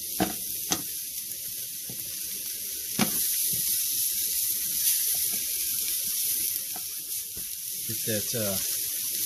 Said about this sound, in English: Got the skillet warming up, so I'm gonna go ahead and throw these in here and cook these.